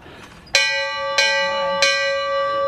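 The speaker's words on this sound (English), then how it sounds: "Hello, crossing bell." A railroad crossing bell at the Grizzly Flats Railroad clangs three times at an even pace, each loud metallic strike ringing on with a bright sustained tone.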